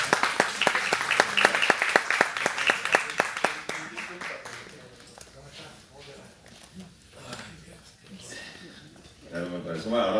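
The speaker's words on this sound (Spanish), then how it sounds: "Un aplauso." An audience at a binational literary gathering applauds a guest speaker, starting with loud rhythmic clapping that thins and fades, then gives way to talking voices.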